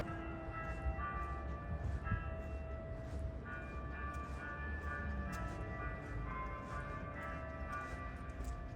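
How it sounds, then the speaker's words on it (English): Catholic church bells in Russia ring steadily with sustained, overlapping tones against a low background rumble, heard from some distance. "there are these bells ringing from the church, the Catholic Church"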